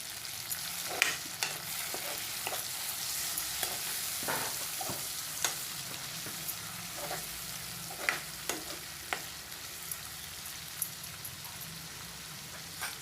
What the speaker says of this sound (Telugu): అల్లం పేస్ట్ వేసినాక హాఫ్ చెంచా పసుపు వేద్దాం పసుపు వేసి రెండు కలుపుకుందాం